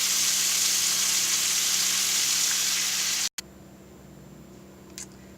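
Fatty bacon sizzles loudly in a pan with a dense, crackling hiss, then after a brief cut continues more quietly with occasional pops.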